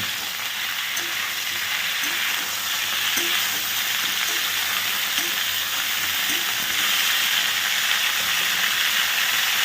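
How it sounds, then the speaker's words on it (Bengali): Cauliflower fries in a pan with a continuous crackling sizzle, steady and fairly loud, with faint tapping and no talking. "ওদিকে আমার ফুলকপিটা ভাজা হচ্ছে"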